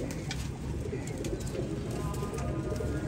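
A pigeon coos softly in repeated low, throaty pulses over a steady background hum.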